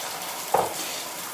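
Egg fries and gets stirred in oil in a non-stick pan, a brief close hiss of sizzling with a quick scrape of a non-stick spatula.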